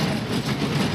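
Ooty toy train rolling through a tunnel, a steady, loud enclosed rumble with clattering wheels on rails filling the whole second, no voices.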